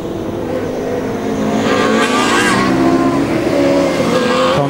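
A Formula Student race car at the 2009 German endurance event snakes through a slalom, its engine loud and close with a constant high-revving note that rises and falls through the turns, with a cone reportedly wedged under the front.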